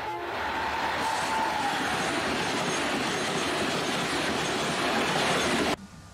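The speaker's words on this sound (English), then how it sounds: "Amtrak's AEM-7s became very popular locomotives in the Northeast Corridor in the 1990s." A loud, close Amtrak AEM-7 electric locomotive and train rolling past on the Northeast Corridor, a steady roar of wheels and rail noise with faint squeal, cutting off abruptly near the end.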